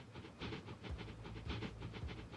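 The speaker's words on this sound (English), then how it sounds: "Oh, I hear another train." A train passing in Transport Fever 2, a quiet rhythmic rumble with repeating clickety-clack pulses and a faint hiss, rolling steadily for a couple of seconds with no talk.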